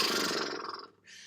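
A human voice imitates a horse's lip trill, a short, loud fluttering blubber of loose lips and breath that fades out, followed by a faint breathy hiss.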